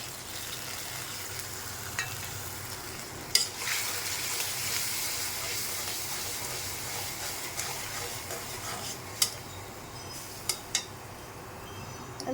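Spice masala is stir-fried over browned onions in a pan, giving a continuous soft sizzle with occasional clinks and scrapes of the spatula against the metal.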